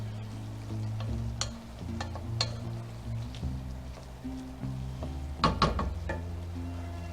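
Minced garlic and onions fry and stew quietly in a pan, giving a faint sizzle over a low hum, with several sharp clinks from stirring.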